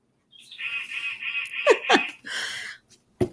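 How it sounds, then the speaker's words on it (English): A bird-call novelty clock chimes with a run of warbling, honking bird calls and a few sharp chirps, close and fairly loud in a home kitchen. "and of course there goes the bird clock"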